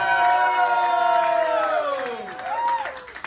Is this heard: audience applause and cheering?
yes